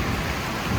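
Rain pours steadily during a thunderstorm on the Portuguese Central Camino, with a low rumble of thunder woven into the dense hiss and no voices.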